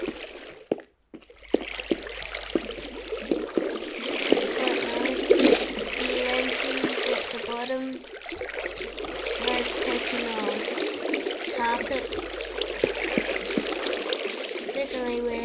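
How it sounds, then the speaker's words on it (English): A Minecraft water fountain flows steadily with a soft trickling, splashing wash, fairly faint, with a person talking over it for most of the stretch. "we're starting off with this nicely made water fountain"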